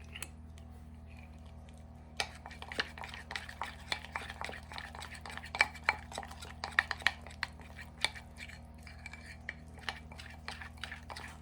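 A melted chocolate and icing sugar mixture is stirred in a bowl: quiet at first, then a run of light clinks and taps from the utensil against the bowl, irregular and close, over a low steady hum.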